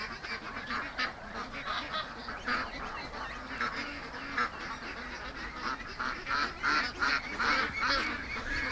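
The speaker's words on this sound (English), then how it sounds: "Duck." A flock of ducks by a creek gives a dense, steady chorus of overlapping honks and quacks, fairly close and unbroken throughout, with no talking.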